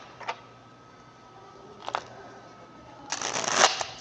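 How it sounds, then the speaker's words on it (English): Tarot cards are shuffled by hand, with a couple of short, sharp card snaps spaced apart and then a longer, louder burst of riffling at the end, close and quiet, with no voice. "a couple more shuffles and then we'll get into your reading"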